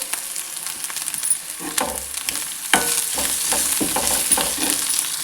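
Masala for a tomato and egg curry fries in a pan, with a continuous sizzle and a spoon scraping and stirring in irregular strokes, close and fairly loud.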